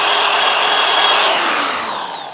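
A power drill whirs loudly and steadily close by, its motor pitch sliding down as it winds down at the end.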